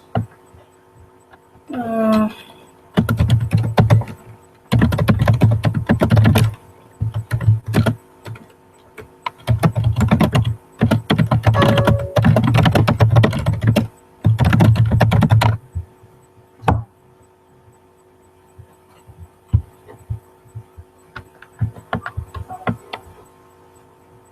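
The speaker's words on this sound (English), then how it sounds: "Typing a little message here on the event page so everybody can see." Computer keys are typed in clustered bursts of rapid clicking over a low mains hum for about fifteen seconds, then fall to sparse, quieter taps.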